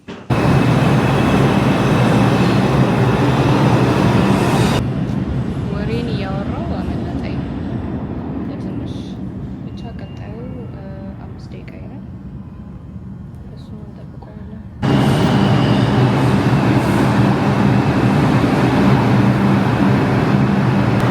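New York City subway train riding, a steady loud roar of wheels and carriage that drops to a quieter rumble mid-ride, likely while stopped at a station, then swells back to full noise.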